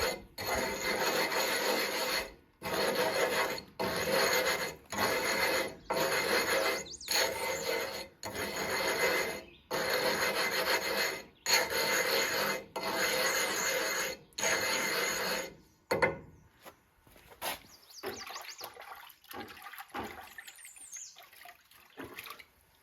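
A sharpening stone is rubbed back and forth on sand to expose its grit, making rhythmic gritty rasping strokes with brief pauses between them, close and alone, followed by scattered lighter scraping.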